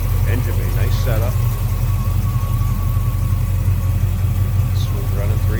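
A 1955 Chevrolet 3100 short box step side pickup with a 350 Chevy V8 idles smoothly, a steady close, loud low rumble throughout.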